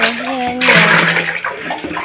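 Water sloshes and splashes as laundry is rinsed by hand, a close, busy wash of sound with someone speaking briefly at the start.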